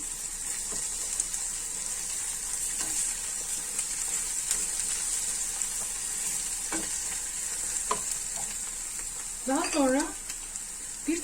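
Tomato paste sautéing with onions in a pan, a steady bright sizzle with stirring scrapes throughout, and a brief voice near the end.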